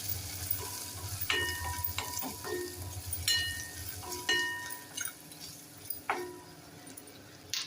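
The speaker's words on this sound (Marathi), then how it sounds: "आणि बारीक चिरलेला टोमॅटो घालूया आता हे छान परतून घेऊया बारीक गॅसवरती परतून घ्यायचा" Chopped tomatoes sauté with red chilli masala in a pan over a low flame for a Konkani-style karli fish curry, giving a steady soft sizzle broken by several sharp scrapes and clinks of a stirring spoon.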